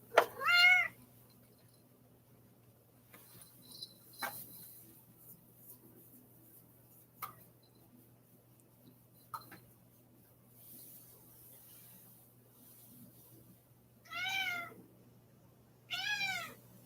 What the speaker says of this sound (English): Rex, you just got cat hair in my face.